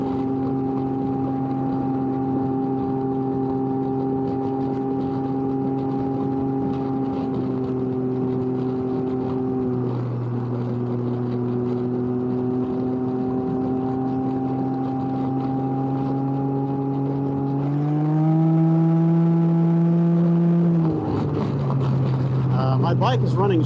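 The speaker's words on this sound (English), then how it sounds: "My bike is running stronger on this mix of fuel than it was on the last tank." A Can-Am Ryker three-wheel motorcycle engine running steadily at highway speed on a Texas hill-country road, a loud continuous drone with a steady pitch that shifts up briefly as speed changes, with wind noise and no speech.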